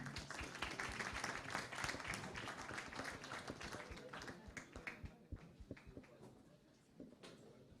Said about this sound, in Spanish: un aplauso para ustedes porque realmente estuvieron súper bien.